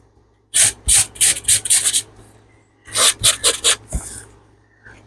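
Rapid rasping strokes of hand sanding a small charm come in two quick bursts of about six scrapes each, close and crisp, separated by a short pause.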